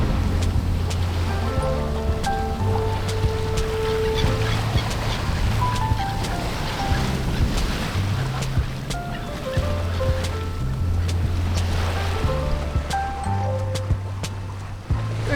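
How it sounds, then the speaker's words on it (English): A boat cruising at sea with its engine throttled back, giving a steady low engine drone under broad wave and wind wash, with a constant loud texture and no talk. "We've just managed to dial back the engine, and we're finally cruising along quite beautifully."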